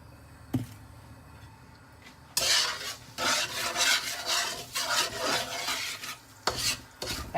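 Semolina being stirred and roasted in oil for halwa, with a spoon scraping and rasping against the pan in uneven strokes over a faint sizzle, close and fairly quiet.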